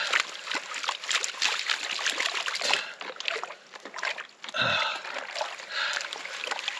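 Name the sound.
rinsing gold pan in water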